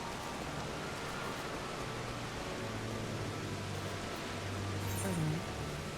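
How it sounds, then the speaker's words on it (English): Rain falls in Final Fantasy XIV, a steady soft hiss of showering drops spread evenly and fairly quiet, with a low tonal hum beneath and a faint brief sound near the end. "Oh, it's raining."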